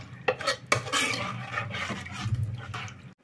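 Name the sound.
stirring sambar in a pot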